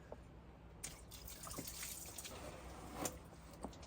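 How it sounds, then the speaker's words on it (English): Coolant trickling and dripping from a removed thermostat housing on a 3.6L Jeep Wrangler, faint close splashes and drips with a few sharper droplet hits. "let's see how much coolant comes out of here."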